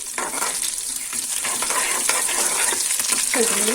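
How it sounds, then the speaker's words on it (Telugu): Cumin seeds and dried red chillies sizzle loudly and steadily in a hot pan on an Indian home stove, with bursts of crackle and the scrape of stirring throughout. "ఇప్పుడు ప్యాన్ పెట్టుకుని జీలకర్ర యాడ్ చేస్తున్నాను ఎండుమిర్చి కూడా యాడ్ చేస్తున్నాను"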